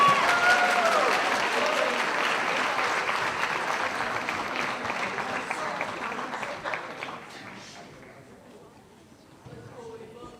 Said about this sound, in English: let's give these guys one more round of applause